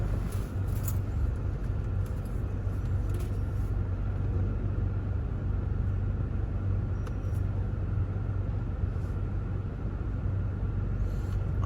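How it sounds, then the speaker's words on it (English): Road traffic rolls through town in Montego Bay, Jamaica, a steady low rumble of passing vehicles heard from nearby, with a few faint clicks and distant sounds above it. "Moving around town, it's such a hassle though, because of all of this traffic."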